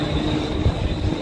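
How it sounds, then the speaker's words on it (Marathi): Mumbai local train rolling slowly near CSMT station, a steady close rumble of carriage and wheel noise with low thumps, continuous throughout and with no voices. "पण आता ट्रेन स्लो आहे म्हणून आम्ही थांबलो"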